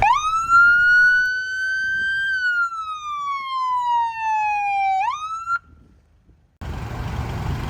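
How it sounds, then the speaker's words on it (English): Siren demonstration on FDNY brush fire all-terrain vehicle ATV 168, a loud wail that rises, holds, then slowly falls before a quick upward sweep and abrupt cutoff, followed by near silence and then broadband outdoor noise. "Here's a little Siren Demo."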